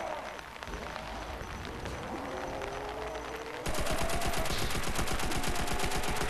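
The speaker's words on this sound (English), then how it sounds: "Let's get on this MG." A mounted MG in Call of Duty: World at War Nazi Zombies on the BerlinBank custom map opens up after a few seconds of ambient game noise, hammering out a loud, fast, even burst of automatic fire that runs to the end.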